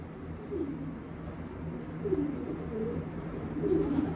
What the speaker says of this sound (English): let's go inside the pigeon loft.